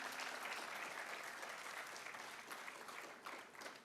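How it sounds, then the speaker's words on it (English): Audience applause after a Bharatanatyam arangetram dance performance, a steady, dense clapping from a crowd that continues throughout at a fairly distant, even level. "Huge round of applause for them."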